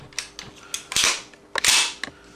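An AGM M4A1 (model 063) gas blowback airsoft rifle gives a few light mechanical clicks, followed by two sharp, loud shots about half a second apart.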